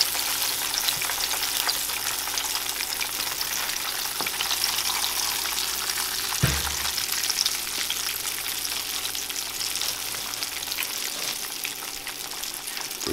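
Rabbit pieces frying in grease make a continuous crackling sizzle throughout, with one brief dull knock midway and no voices.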